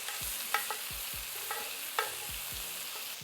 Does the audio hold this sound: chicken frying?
yes